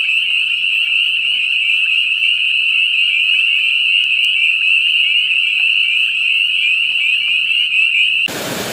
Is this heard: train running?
no